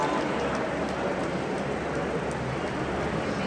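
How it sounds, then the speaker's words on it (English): Steady, dense crackling wash of applause from a crowd at a scholarship award ceremony, continuous and even throughout with no voices over it. "Give her a big round of applause."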